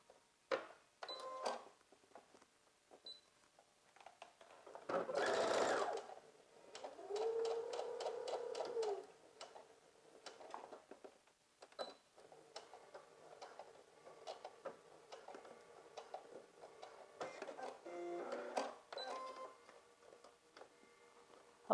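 A sewing machine stitching fabric strips together with a quarter-inch seam, bursts of rapid even needle ticking, the longest run lasting a couple of seconds, between quiet pauses and faint handling clicks.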